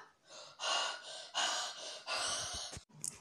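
Heavy, raspy breaths in and out, four long loud pulls of air close to the mic, then a short sharp gasp at the end.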